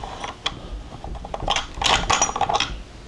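Metal parts of an SKS 7.62 rifle click, slide and rattle as the bolt is taken out. Several sharp mechanical clicks and scrapes come up close, with a denser burst of metallic clatter near the end.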